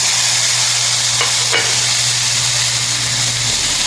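Five whole tomatoes go into a hot frying pan with cooking bangus, giving a steady, loud broadband sizzle and hiss under a low hum that cuts out near the end, with a couple of brief stirring clicks.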